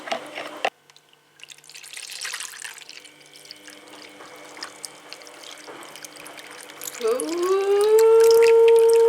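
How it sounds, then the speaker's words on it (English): Liquid mixture poured from a jug into a mould at home, a quiet trickle that builds to a steadier, louder pour toward the end with a rising tone as the mould fills. "then I've got to top it up with another half a pint and then pour it into the mould"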